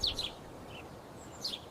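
A sparrow chirps in short, bright, high calls: a quick cluster at the start, a lone faint note in the middle and another pair near the end, fairly close over quiet background.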